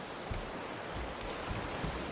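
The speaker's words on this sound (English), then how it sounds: "Let's do a quick sleep and then hope this rain passes." Steady soft rain patters continuously, with occasional faint drips and low thumps in the background, no voices.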